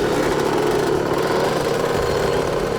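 Motorbike engine running steadily nearby, a constant mid-pitched droning hum with a rough buzzing texture, loud and unbroken for the whole stretch with no talk over it.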